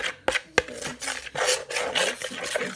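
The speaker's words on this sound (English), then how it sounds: "you grate some chocolate on as well" Chocolate is grated onto a yogurt pot in a home kitchen, a series of close, dry rasping strokes in an uneven rhythm with a couple of sharp clicks, no talking.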